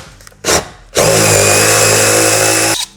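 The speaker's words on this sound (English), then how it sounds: "I'm gonna drill some pilot holes to help." A power drill bores pilot holes in a Ford Transit cargo van while a partition is being installed. A short burst comes first, then a loud, steady whine that runs for nearly two seconds before stopping.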